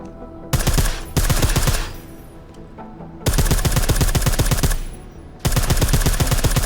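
Bursts of rapid automatic gunfire from a silenced weapon in Deus Ex: Mankind Divided, loud, close and dense, coming in four long volleys separated by short pauses.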